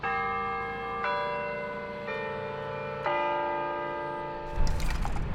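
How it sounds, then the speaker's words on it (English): Church bells in Jefferson ring out in a slow sequence of four resonant strikes about a second apart, each note sustaining and overlapping the last, before a burst of noise. "hanging out with Jefferson's beautiful bells"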